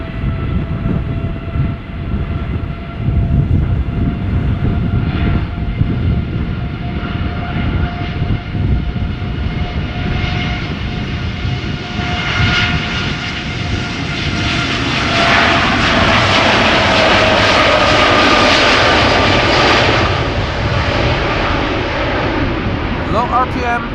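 Airliner jet engines at Schiphol Airport on a departure to Montego Bay, a loud continuous roar heard from inside the cabin that builds and brightens around the takeoff run, with a steady tonal whine underneath.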